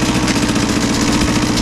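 A motorcycle engine runs steadily at idle with the cold start engaged while the bike sits in neutral, a continuous low, even rumble that stays close and loud with no talk over it.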